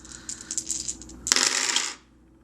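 Six dice clatter onto a tabletop during a game of Yahtzee, first as a run of light plastic clicks and then as a brief, louder tumbling rattle before the dice settle into quiet.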